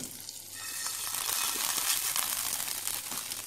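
Hot chili powder tempering sizzles and crackles as it is added to a Kerala-style kurukku kalan curry, a steady bright frying hiss rising slightly with stirring clatter, close and moderately loud with no talking.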